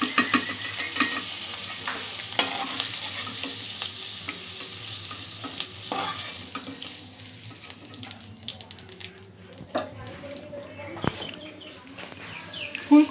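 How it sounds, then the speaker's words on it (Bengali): Potato and cauliflower fry in hot oil with a steady, close sizzle that runs throughout, with faint chirps from birds outside mixed into the background. "আলু আর ফুলকপিটাও এবার আমি ভেজে নেব।"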